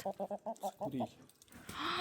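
A pet hen clucking close by in a rapid series of about seven short, evenly spaced clucks, then a pause before a rising squawk.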